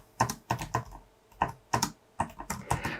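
Someone types a terminal command on a computer keyboard while configuring SSH on a Raspberry Pi: a close, crisp burst of quick key clicks in uneven clusters over about three seconds, with no talking.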